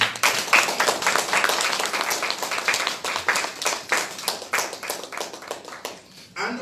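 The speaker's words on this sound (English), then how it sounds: "Let us give a round of applause to him." A small group claps steadily for several seconds, close by, the clapping thinning out and fading toward the end.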